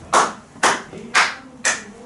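Four sharp claps in a classroom, evenly spaced about half a second apart, close and crisp with quiet between them.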